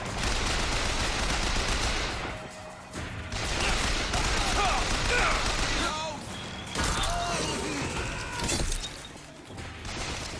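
Soldiers firing guns in Bioshock Infinite, dense bursts of gunshots mixed with game noise and shouting voices, loud and nearly continuous with brief lulls.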